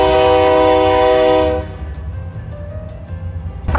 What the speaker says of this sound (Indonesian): Dia bawa barang muatan kayak box-box gitu, kontainer-kontainer. Panjang banget, dari tadi nggak habis-habis.